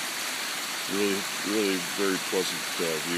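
Steady, full rush of waterfalls and cascades tumbling over rock, a constant roar filling the background while someone talks over it.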